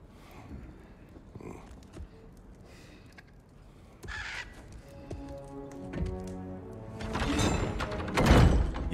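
Odin's crows caw in God of War Ragnarok, a scattering of raspy calls against game ambience that swells into louder clatter and impacts toward the end, with no talk.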